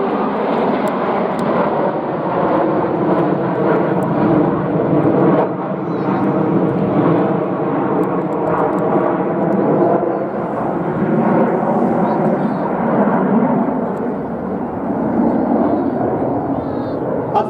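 Red Arrows jets in Spitfire formation at an air festival, a loud continuous roar of jet engines overhead with steady rumble throughout, a commentator talking over it.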